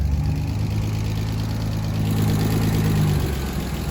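A BMW E36 car engine idles steadily with a low, even rumble that swells slightly partway through before settling back.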